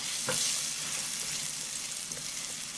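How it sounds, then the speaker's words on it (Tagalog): Carrot and luncheon meat stir-fried in a pan, a dense steady sizzle with an occasional spoon knock, close and unbroken throughout. "Una nating lutuin yung carrot dahil matigas ito."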